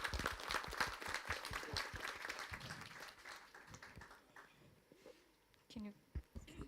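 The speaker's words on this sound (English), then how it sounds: "So a big round of applause for our judges." Audience applause for the judges at a corporate case competition grand final, loud and dense at first, then thinning out over several seconds as a voice starts speaking at the end.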